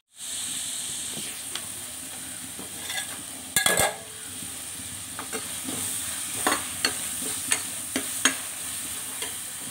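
Onions frying in a pan for a South Indian snail dish give off a steady, close sizzle. Louder clatters of stirring and scraping come at intervals over it, and no one talks.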